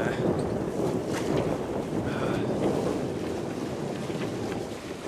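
Steady wind rushing over a sailboat under sail off the coast of Croatia, a constant broadband roar with faint higher tones, no pauses, filling the whole stretch.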